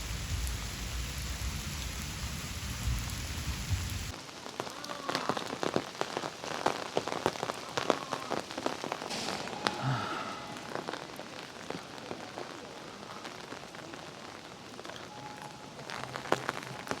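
Heavy rainstorm pouring down on Donghu Road at a scenic area, a dense continuous hiss of rain on hard surfaces with scattered patters and drips, steady and close, with no talking.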